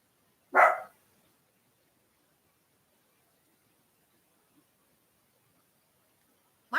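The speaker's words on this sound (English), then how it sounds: "My dog bark for anything." A dog indoors gives one sharp, loud bark, followed by a long near-silent pause, and then the start of another bark right at the end.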